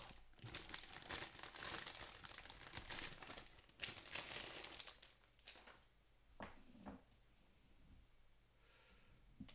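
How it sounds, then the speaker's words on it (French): Plastic bags holding the runners of a Bandai HG Bracer Phoenix model kit are torn open and crinkled by hand, giving a close run of crackling rustles that thins out into a few scattered crinkles, with no speech. "Donc on va ouvrir les sachets de runner."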